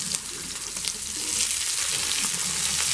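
Chopped onions frying in a pan, a steady bright sizzle that swells a little louder partway through, with faint stirring clicks and no voices.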